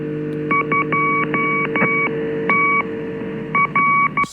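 Number station radio transmission with a run of clean telephone-style DTMF tone beeps in irregular groups over a steady carrier hum, loud and clear with no voice.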